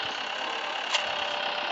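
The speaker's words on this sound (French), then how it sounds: "On va prendre ce tracteur, on va reculer jusqu'à droite et la remorque" A tractor engine idles steadily in Farming Simulator 14, a constant mid-pitched hum with one brief click partway through and no talking.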